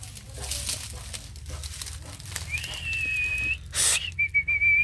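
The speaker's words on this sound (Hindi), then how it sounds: "के छे जे सीटी मारै छै?" A person whistles two sustained, steady tones, the second shorter, at moderate distance over soft rustling and crinkling noises.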